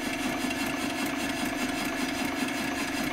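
A small engine with a 13 pound flywheel, roughly 2.2 horsepower, running steadily at close range, an even rhythmic chugging hum that holds its pace throughout with no voices.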